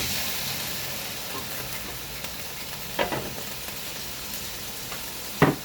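Chicken sizzles in a pot while cooking for chicken sinigang soup, giving a steady, moderate frying hiss with a few stirring clanks and scrapes.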